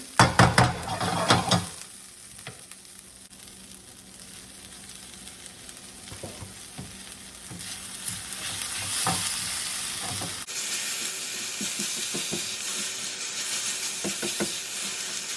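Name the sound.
stirring caramelizing vegetables for tomato bisque soup in a pot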